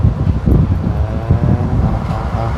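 Wind blowing outdoors in a rural countryside setting, a steady, loud rushing and buffeting close to the microphone with low rumbling gusts, heard on its own without talk.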